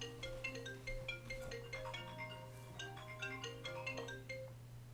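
A phone ringtone plays for several seconds as a steady, faint melodic tune of repeating tonal notes over a low constant hum.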